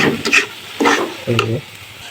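A spoon scrapes and stirs sizzling prawn curry in a pan in three short, close strokes separated by brief pauses, with a light fry crackle under each pass.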